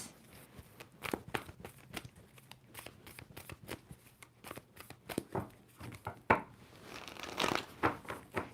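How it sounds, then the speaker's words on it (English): Tarot cards are shuffled in a series of quick, crisp riffling bursts, close up and fairly quiet, with soft handling noises between them. "Two more shuffles."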